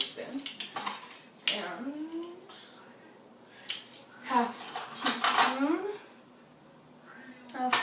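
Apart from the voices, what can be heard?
measuring spoons being handled and clinking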